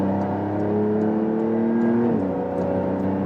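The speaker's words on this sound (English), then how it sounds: "shifting down myself first" A Porsche 911 Dakar engine heard from the cabin, a steady hum that swells and then drops as the PDK gearbox shifts down, with no talk.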